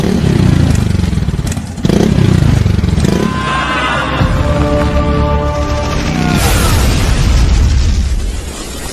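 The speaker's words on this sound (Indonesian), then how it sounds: "Danu mengorbankan dirinya dengan menabrakkan motornya dengan mobil Kapten John" A motorcycle is rammed into a car in a Battle of Surabaya war film scene: loud, dense roaring with a sharp crash and bursts that run almost continuously through the clip.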